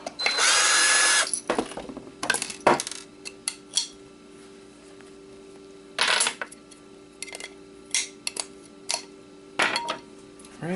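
A power drill unscrews a magnet from a motor, opening with a loud, high whine lasting about a second. Short bursts of drill whir and metallic clicks and clatter follow at close range. No one speaks.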